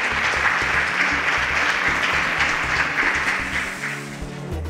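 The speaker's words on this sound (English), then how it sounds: "Please a round of applause for them as they exit the stage." A live audience claps steadily as contestants leave the stage at a competition show, with dense sustained applause that tapers off slightly toward the end.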